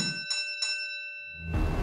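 Two-tone ding-dong doorbell chime, two clear ringing strikes with long sustained tones, followed by a low rumbling thump at the end.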